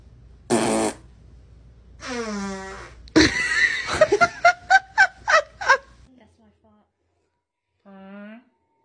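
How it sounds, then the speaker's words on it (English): A series of human farts: a short blast, then a longer wavering one, followed by a sharp burst and a rapid run of popping toots, ending with a brief final squeak, all loud and close with no talk. "Guess the sound of my fart."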